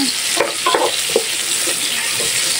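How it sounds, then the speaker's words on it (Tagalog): Sliced onion sautéing in hot oil gives a steady, close sizzle, with a few soft scraping stirs breaking through the hiss. "Igigisa lang natin siya hanggang maging translucent yung kulay ng ating onion"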